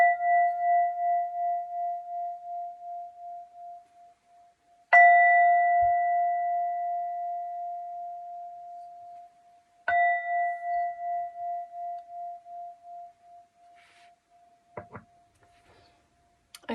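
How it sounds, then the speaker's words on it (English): A chime is struck three times, about five seconds apart, to cleanse energy. Each clear, sustained ring fades slowly in a quiet room, followed by a few faint soft taps at the end. "You will be hearing a chime"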